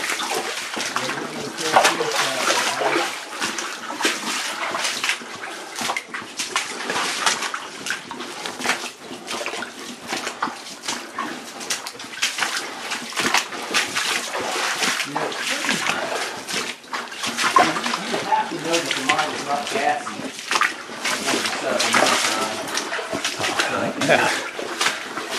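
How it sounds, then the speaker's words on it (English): Feet wading and splashing through flooded water inside an old abandoned coal mine, a steady, close churn of sloshing over nearly half a minute, with voices speaking intermittently. "So we'll try to navigate through this water."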